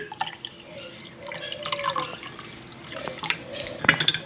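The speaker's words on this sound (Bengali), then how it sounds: "এখন পানি দিচ্ছি" Water trickles and splashes into a glass for a salted summer drink, with a steady faint pour and small drips, close by and without talk.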